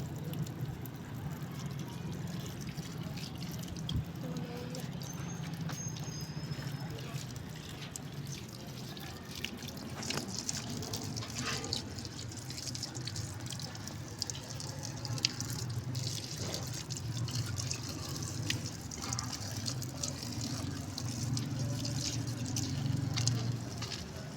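Tap water runs steadily into a sink while carrots are washed, a continuous rushing flow with faint drips and clatter throughout, fairly close and without talk.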